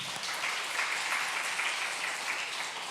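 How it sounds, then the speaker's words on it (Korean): Steady applause from a church congregation for a deacon's upcoming Saturday wedding, a dense even patter of many hands that holds at an even level for the whole stretch with no voices rising above it. "먼저 축하 한번 해드리십시다. 박수."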